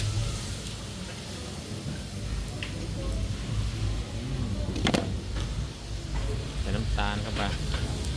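An egg fried in a wok for pad thai at an old market stall in Mueang Phon, Khon Kaen, giving a steady sizzle with brief scraping and stirring clatter, while people talk nearby.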